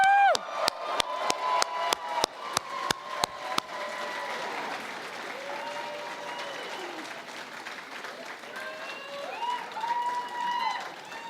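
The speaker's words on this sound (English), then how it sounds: "give them a major shout out and a big round of applause" A crowd at a university commencement bursts into applause with sharp claps, then cheers and whoops rise and fall as the clapping fades.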